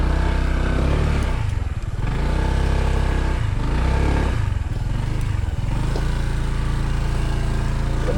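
Large motorcycle struggling up a slippery road with no first gear, engine roaring loud and close with repeated surges and dips in revving, rough clattering throughout.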